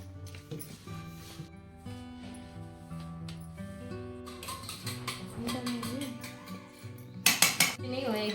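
Chicken being mixed with pepper powder in a bowl, with repeated metallic clinks and scrapes of utensil against the dish over a continuous tonal music background.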